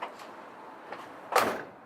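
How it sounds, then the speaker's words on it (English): The door of a 1969 Chevrolet Camaro RS/Z28 shuts with a soft, easy thunk, a single quiet close at moderate distance with faint clicks before it. "Door shuts real nice and easy."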